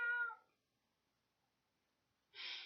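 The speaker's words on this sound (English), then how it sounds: "That's my cat, Wellington." A pet domestic cat named Wellington gives a short, fairly clear meow, followed by a long silence and then a soft breathy noise, all faint and close in a quiet room.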